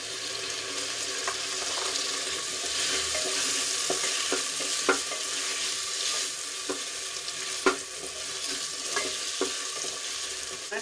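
Tomatoes drop into ginger and garlic frying in a pan, giving a steady, close sizzle with scattered clicks of stirring throughout and no voices.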